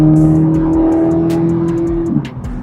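Corvette Z06 exhaust in its second, not fully loud mode hums under light throttle, a steady close drone that builds briefly and then eases off near the end.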